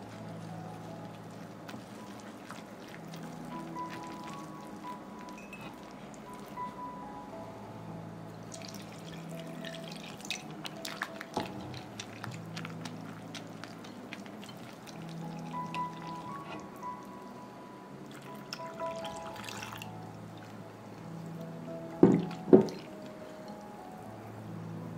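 A whisk stirs batter in a bowl while water is added gradually, giving soft sloshing, pouring and drippy liquid sounds with scattered clinks of metal against the bowl, including two louder knocks near the end.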